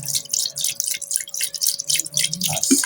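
Water poured into a cooking pot in a home kitchen, a continuous splashing and trickling stream with uneven bursts, close and moderately loud, with a steady hum beneath.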